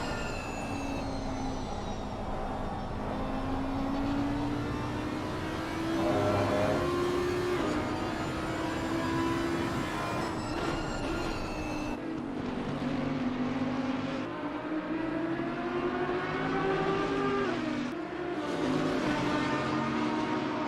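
Race cars in the ACC racing game drone loudly and continuously as an Audi, a Bentley and a Lamborghini battle at Watkins Glen, engine pitch climbing and dropping through gear changes, with overlapping cars.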